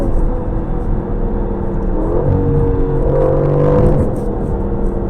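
A 2020 Aston Martin Vantage V8 engine revs up and accelerates, a steady loud rumble rising in pitch with a throaty whir, up close and with no talking.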